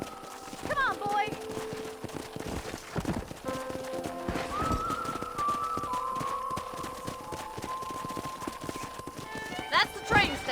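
Horse hooves from the video game Red Dead Redemption clop steadily along at a brisk pace, with a whinny near the start and voices talking over the hoofbeats.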